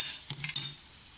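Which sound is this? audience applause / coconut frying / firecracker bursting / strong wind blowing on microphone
coconut frying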